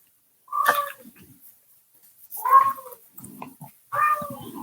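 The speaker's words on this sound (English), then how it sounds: "apologize if you guys can hear, if everybody can hear my cat in the background." A house cat meows three times in the background, each call a clear, fairly loud wail followed by a softer trailing note, with quiet pauses between.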